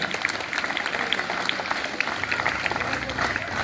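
Audience clapping in tribute to Savitribai Phule at a village school Independence Day celebration, a short burst of dense applause with a voice speaking over it.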